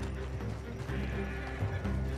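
Horses whinny and hooves clop in Red Dead Redemption as horses are freed from a coach, a short busy mix of neighs and hoofbeats close by.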